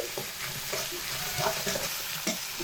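Spices cooking with salt and turmeric powder in a pan, a soft steady sizzle broken by a few light scrapes of a spatula stirring the mixture.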